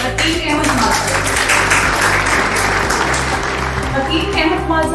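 Audience applause rings out at a lucky draw during a 74th anniversary celebration, steady and dense clapping filling the room for several seconds with no break.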